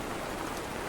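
Light, gentle rain falling steadily outdoors during a village fair season, a faint, even hiss of drops with no other sounds.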